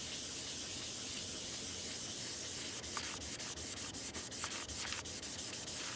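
Graphite shading being smoothed on paper: a steady soft hiss of rubbing across the paper, close and quiet, with a run of quick scratchy strokes in the second half.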